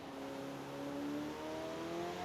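A car engine in the video game Forza Horizon 4 hums at a steady, moderate pitch while cruising through a town, slowly rising in tone, quiet and alone with no talk.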